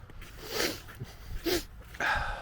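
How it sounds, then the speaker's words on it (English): A person sniffs a few times in a cold setting, short soft nasal inhalations close to the microphone with quiet background between them. "Sorry about the sniff, but it does get cold."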